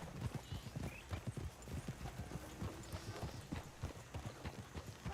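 Steady clip-clop of several horses' hooves in Red Dead Redemption 2, rhythmic and close, with faint ambient background and no clear talk.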